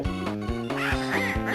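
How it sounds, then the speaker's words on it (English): Mumbo Jumbo's character voice from the Banjo-Kazooie: Grunty's Revenge video game, a rapid, buzzy, nasal babble of short syllables in a steady pulse, loud and alone. "And this is the sound of Mumbo Jumbo."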